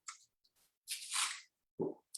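A person drinking water, with soft close sips and wet mouth sounds and a final gulp, quiet and intermittent with short gaps between them.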